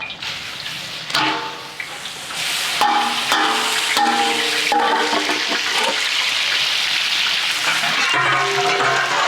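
Crushed ginger and garlic sizzle in coconut oil for a home-style chicken curry, a steady broadband hiss joined by stirring clatter and scraping, close and fairly loud throughout.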